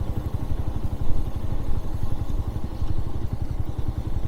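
A Kawasaki W175 motorcycle engine thumps steadily at a low rev, with an even pulsing beat close by and no talk over it while riding the winding roads of Marian Hill.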